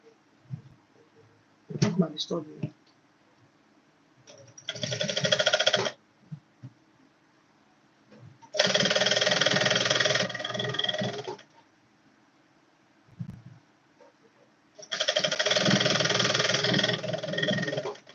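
A sewing machine stitches a quarter-inch seam on the yoke of a corset in three loud, steady whirring bursts of several seconds each, separated by quiet pauses and a few handling clicks.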